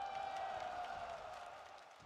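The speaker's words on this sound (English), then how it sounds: "Crowd loves it." Crowd cheering and applauding at a live StarCraft esports tournament, the Douyu Cup, as a match ends; a dense, steady wash of cheers and claps that fades slightly toward the end.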